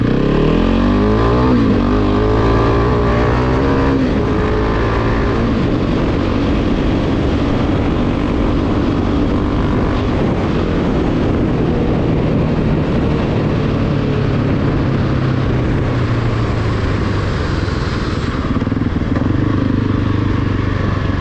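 A Husqvarna 701 supermoto with a single-cylinder fuel-injected engine is ridden, giving a loud, continuous engine drone that rises and falls with throttle and nearly fills the whole stretch.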